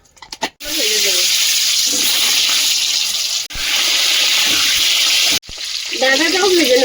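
Running water splashing steadily while rice is washed with a little turmeric alongside potatoes, in a home cooking setting; the broadband rush starts after a brief clatter, cuts out twice and resumes, fairly loud and close.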